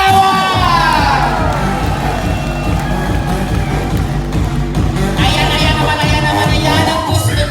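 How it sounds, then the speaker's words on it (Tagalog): Loud crowd cheering, whooping and yelling with clapping, sustained without a break at a 70th birthday party, the shouts rising again near the end. "Isa ulit, masigabong palakpakan na may sigawan!"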